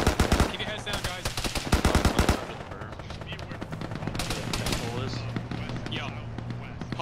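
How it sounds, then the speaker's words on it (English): Rapid bursts of machine gun fire in the Arma military video game, loud and close at first, then continuing more distantly under overlapping radio-style voices. "Hold your fire, hold your fire."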